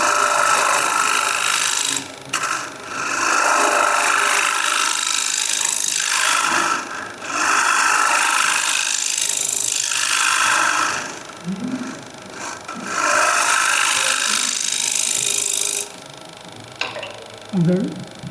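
A bowl scraper works wood spinning on a lathe at a woodturners' gathering, giving loud, raspy scraping in long passes of a few seconds each, broken by short pauses.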